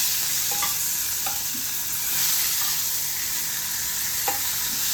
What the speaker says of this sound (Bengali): মাছটা ভালো করে ভাজা হোক,